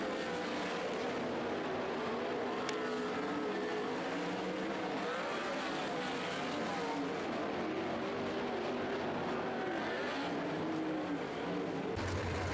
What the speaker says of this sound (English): here we go with your first heat action of your modifieds